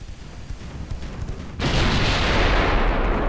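Battleship main guns firing in Ultimate Admiral Dreadnoughts, Bismarck against Littorio in a WW2 naval battle: after a low rumbling stretch, a heavy broadband blast erupts midway and sustains as a loud roaring barrage.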